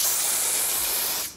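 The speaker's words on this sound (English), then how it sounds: "So I'm just gonna take the spray and just hit them with the twist." One long, loud hiss from a spray bottle aimed at a kinky curly lace front wig, close up and steady before cutting off sharply.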